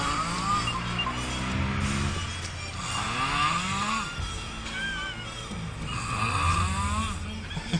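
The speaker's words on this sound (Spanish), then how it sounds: "Qué ronquido." Loud, rough snoring rises and falls in long drawn-out breaths, harsh and rattling like a small engine, filling the entire stretch close up with no pauses.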